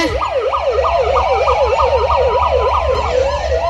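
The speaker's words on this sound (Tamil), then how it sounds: "ஏய் போலீஸ் வராங்கடா சைரன் சத்தம் கேக்குது" A police siren wailing in fast up-and-down sweeps, loud and close, sounding continuously with no voices.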